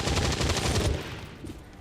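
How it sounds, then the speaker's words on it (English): Heavy cannon firing in XCOM 2, a rapid rhythmic burst of loud thudding shots for about a second, then fading into rumbling decay. "Let's get Sophia to do whatever he can with his heavy cannon."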